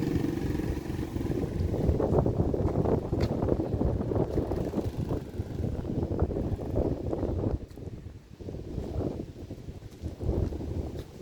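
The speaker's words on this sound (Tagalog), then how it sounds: "Mahangin kasi mataas, di ba?" Wind on high ground in Calamba, Laguna buffets the microphone in a continuous low, rumbling roar that surges and dips in gusts.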